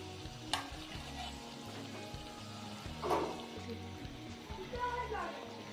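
Potato tikkis sizzle steadily in hot oil as more patties go into the pan, with a soft frying hiss under a person talking nearby.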